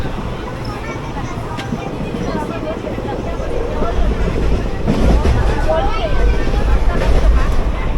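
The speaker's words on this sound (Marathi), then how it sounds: "खूप जोरात वारा चालू आहे" Loud, rushing wind roars across the microphone on a train journey under dark monsoon clouds, gusting stronger halfway through, with a low rumble underneath.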